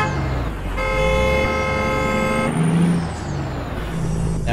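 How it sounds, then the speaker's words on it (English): Car horns honking on a road in American Truck Simulator: one long, loud toot holds for about two seconds, a shorter lower blast follows, and engine rumble and traffic noise run underneath. "Now everybody can stop honking their horn at us"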